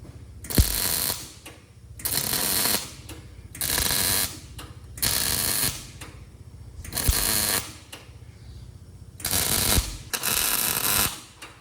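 A punch tool pushing bolts in during a Peterbilt truck build, heard as repeated loud mechanical ratcheting bursts of about a second each, separated by short pauses, close up in a workshop.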